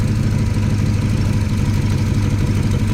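A project vehicle engine that has sat unused for a long time idles steadily with a slight shake and a possible bad plug or sticking lifter. The deep, constant rumble is close and loud throughout, with no voices.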